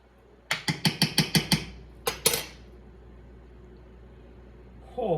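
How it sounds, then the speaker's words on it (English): A spoon clinks rhythmically against a pot while sugar and raisins are stirred into rice pudding, about six quick metallic taps, then a pause and a couple more clatters before a quiet stretch. "we're going to stir in the sugar and the raisins"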